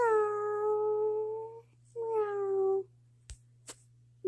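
A cat meows twice in long, clear, slightly falling cries, close by and fairly quiet, followed by a couple of soft clicks against a steady low hum.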